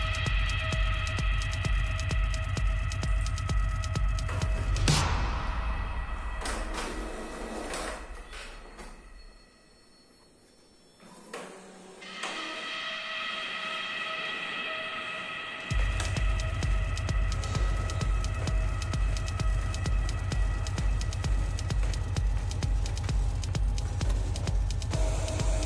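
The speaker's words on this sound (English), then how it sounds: "So this thing appears and your printer is now printing." An Epson L3150 inkjet printer prints a nozzle check pattern: steady mechanical humming and throbbing with rhythmic pulses, a quieter pause midway, then the loud drive noise resumes and runs on, close and without talk.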